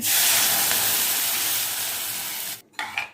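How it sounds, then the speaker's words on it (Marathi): Mustard seeds sizzling in hot oil for tempering a Khandesh-style kadhi, a loud, steady dense hiss that cuts off abruptly near the end, followed by a few brief clattering sounds. "फोडणीसाठी मी तेल घालते आहे थोडं तेलामध्ये मोहरी घालते आहे"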